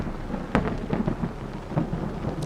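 Thunder rolling outside a window during a storm, low rumbling swells with a few sharper crackles, mixed with a steady wash of rain.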